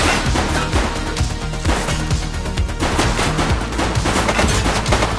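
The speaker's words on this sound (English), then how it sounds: "She's shooting!" Rapid gunfire from a suspect in the police video game The Precinct, loud dense bursts of shots with sharp cracks and crashes continuing throughout, with no talk.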